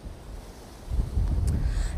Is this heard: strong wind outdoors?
yes